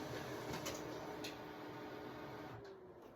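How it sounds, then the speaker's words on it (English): Home printer running indoors, producing a steady whirring mechanical drone with a few faint clicks and ticks, continuous throughout and moderately loud. "Sorry, that is my printer."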